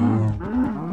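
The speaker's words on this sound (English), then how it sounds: "Stupid me, there's more cows." A cow in the Minecraft video game lets out a single loud, close, low moo that lasts the whole second, heard on its own.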